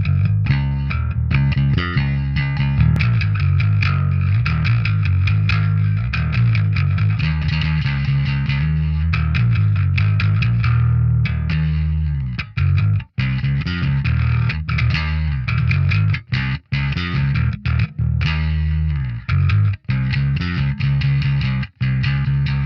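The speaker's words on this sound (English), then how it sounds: "Blackheath is a triple mode distortion pedal that Laney says is dedicated to, quote, giving the bass player all the tonal distortion they're looking for in a single pedal." Bass guitar played through a Laney Blackheath triple-mode bass distortion pedal, with loud, thick distorted riffs running nearly nonstop and a few sharp cuts and choppy stops toward the end.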